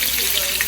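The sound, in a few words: searing food in a pan, sizzling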